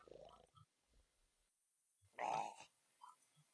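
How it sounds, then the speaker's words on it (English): A single drawn-out snore in the video game My Summer Car rasps once amid quiet, faint grunting breaths before and after, close and otherwise near silent. "Snores a lot for a dead lad."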